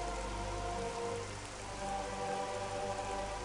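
Steady rain falling on Tallon IV in Metroid Prime Remaster, a continuous even hiss of drops on surfaces with a low rumble underneath, soft and unbroken throughout.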